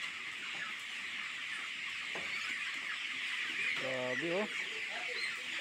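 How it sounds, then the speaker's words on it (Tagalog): Chickens on a poultry farm cluck and squawk across the clip against a steady noisy background, with a brief exclamation from a person partway through. "Ang dami palang manok dito guys."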